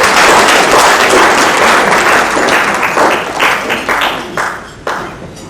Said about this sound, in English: Can we give a round of applause to Carnegie?